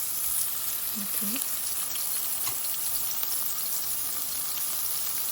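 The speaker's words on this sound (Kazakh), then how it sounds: "енокиларымызды салып 2-3 минут сарғайғанша қуырып алатын боламыз" Enoki mushrooms fry in a little oil in a pan until golden, giving a constant, even sizzle and crackle close by from start to finish.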